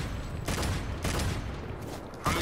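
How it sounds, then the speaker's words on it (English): Gunfire from a character shooting in mid-air in the action game Devil May Cry 5, several quick bursts spread across the moment amid busy game noise, with no voices. "Oh, we can shoot in the air too."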